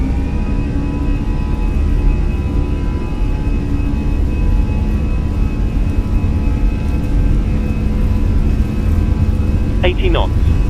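An Airbus A320 in a flight simulator makes a rolling takeoff, its engines giving a loud, steady jet roar and whine that hold constant throughout, with a brief sharp click near the end.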